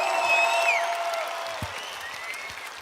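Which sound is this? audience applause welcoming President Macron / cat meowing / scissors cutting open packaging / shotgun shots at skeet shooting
audience applause welcoming President Macron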